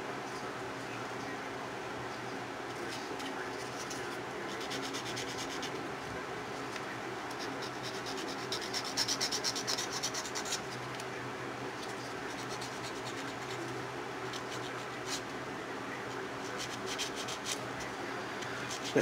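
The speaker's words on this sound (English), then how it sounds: "Got some hefty filing to do here, this nail." Close, steady scratching of a file working over an acrylic nail, with continuous fine back-and-forth strokes at moderate level.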